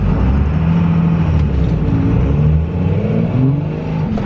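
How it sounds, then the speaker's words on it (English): A Cummins diesel truck with an Edge Comp 5x5 tune and NV4500 gearbox accelerates hard from a second-gear start, its deep engine note climbing steadily in pitch, loud and close with no talk. "second gear start, Edge Comp 5x5 acceleration"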